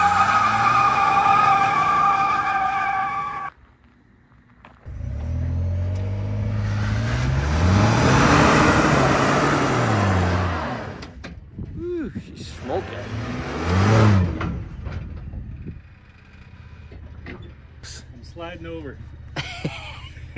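Ford F-150 pickup doing a burnout while hitched to a trailer, its engine revving hard in long rising and falling surges for several seconds, with tire noise and voices around it.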